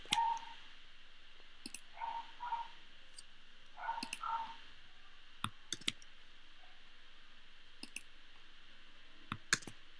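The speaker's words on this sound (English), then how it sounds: "So we need to press Option and then return on our keyboard" Scattered clicks of computer keyboard keys being pressed, a few single taps and short clusters, faint and close against a quiet room hum with long gaps between presses.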